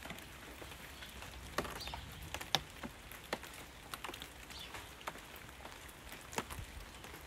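Soft steady rain falls, with scattered drops tapping and pattering close by on a hard surface.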